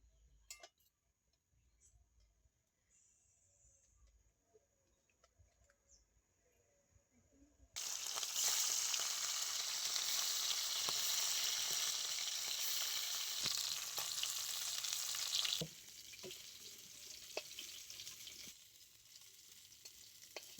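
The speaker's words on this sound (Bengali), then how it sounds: "এবার এই মাছগুলো ভেজে নেব।" Pieces of fish sizzle loudly in well-heated oil, a dense steady crackle that rises suddenly after a quiet start and eases slightly later, with faint clinks and no talking.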